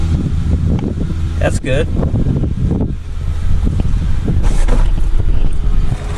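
A clapped-out El Camino with a manual choke cranks and fires up, its engine rumbling steadily and loudly throughout beneath wind noise, while people talk briefly nearby.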